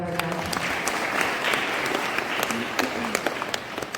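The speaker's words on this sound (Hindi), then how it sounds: "ये पूरा ग्रेट टीम के लिए जोरदार तालियां बजाएं।" A crowd at a meditation gathering in Pune claps vigorously for the organizing team, dense continuous applause with a voice briefly heard over it.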